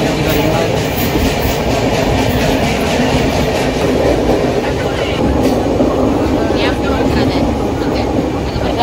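A train travels along the rails in a steady, loud, continuous rumble with rhythmic clickety-clack, heard from on board with faint voices mixed in.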